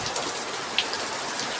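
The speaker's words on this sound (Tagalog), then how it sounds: "Lumakas na yung ulan." Heavy rain pours down steadily in a dense, even hiss with faint drop patter and no voices over it.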